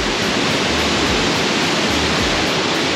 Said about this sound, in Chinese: 精英温泉上面的这个精英瀑布温泉这个瀑布哦。